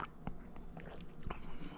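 An Oreo cookie is chewed close up in quiet crunches and soft wet mastication sounds, with a couple of sharper bites standing out against a low room hum.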